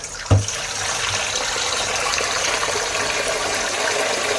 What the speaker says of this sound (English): Then we put some cold water in there, in the bowl.